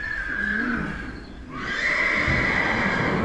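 A draft horse whinnies at an auction with a long, wavering neigh that rises and trails off, fairly close, with a quiet outdoor background.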